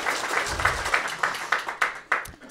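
A small audience at a hardware prototyping meetup claps briefly, a close, loose patter of hands with distinct individual claps.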